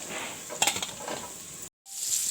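Onions hit a pan of hot oil with cumin, green chillies and garlic, giving a continuous close sizzle with a few spoon clinks against the pan, then a brief drop to silence before the frying resumes.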